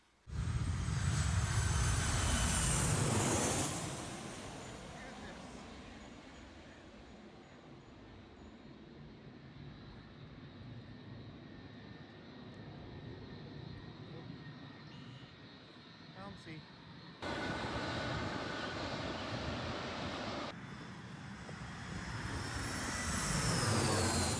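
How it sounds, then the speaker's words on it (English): A loud aircraft engine roar overhead near a busy Washington, DC airport that fades into a distant rumble, then surges again later; people's voices are heard faintly between passes. "this is definitely a cool plane spotting area for sure. You can really feel it when they go over."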